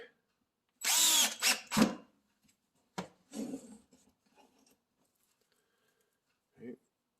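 A power drill driving screws into drawer tracks whirs in short bursts, a couple of quick runs close by, followed by a brief later buzz, with quiet gaps between.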